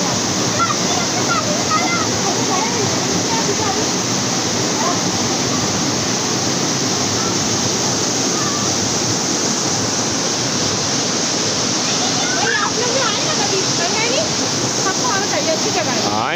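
Jungle waterfall pouring in a steady, loud, unbroken rush of water, close by and continuous throughout, with faint voices partly buried under the roar.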